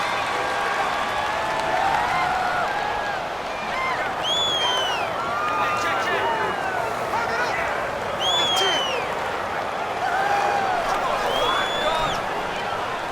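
Simulated stadium crowd noise from Madden NFL 19 during a Pittsburgh Steelers versus Green Bay Packers game, a steady roar with whistles and cheers rising in bursts while announcers talk over it.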